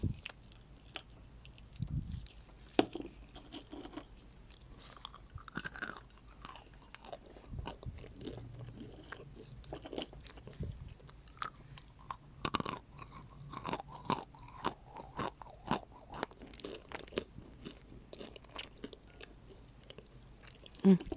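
Slow, close-up chewing of Bashkir clay, with scattered, not very sharp crunches and soft squishy bites, irregular and quiet, with occasional breaths between them.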